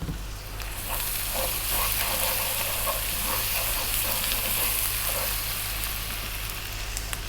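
Onions and ginger garlic paste fry in a pan, a steady loud sizzle and hiss with small crackling pops throughout, no voices.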